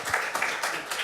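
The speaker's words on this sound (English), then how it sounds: "Applause for Dr. Gritch" A live event audience applauds a surgeon, a steady wash of many hands clapping in swelling bursts, close and fairly loud throughout.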